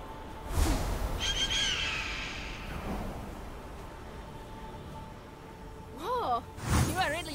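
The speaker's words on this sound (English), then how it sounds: "Bird." Several bird calls sound in the video game Immortals Fenyx Rising: a hoot early on and warbling, rising cries near the end, with a person talking between them.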